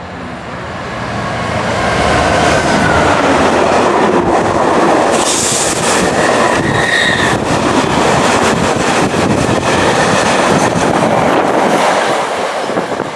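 A GBRf Class 66 diesel freight locomotive and its wagons pass through Godalming station, building to a loud, sustained roar with rail clatter and wind buffeting on the microphone.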